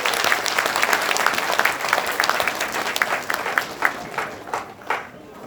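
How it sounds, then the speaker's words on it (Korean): A hall full of people applauds at the 2023 entrance ceremony of Korea National Open University's Incheon regional campus: dense, sustained clapping that thins out and softens toward the end. "여러분들 다시 한번 큰 박수 부탁드립니다"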